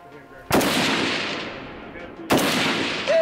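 AK rifle fire at a competitive shooting match: two loud, sharp gunshots roughly two seconds apart, each with a long decaying echo, and the start of a third at the very end.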